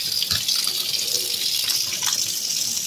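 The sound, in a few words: washing rohu fish pieces under running tap water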